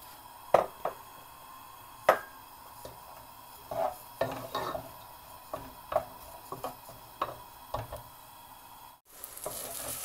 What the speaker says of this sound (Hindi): प्याज डाल के इसको थोड़ा भून लेंगे।